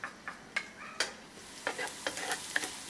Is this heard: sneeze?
no